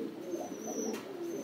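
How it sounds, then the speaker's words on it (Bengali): Female Lahori pigeon in a fancy pigeon loft, a low soft cooing close by, with a faint thin chirp from another bird in the background. "মাদি কবুতর লাহোরি"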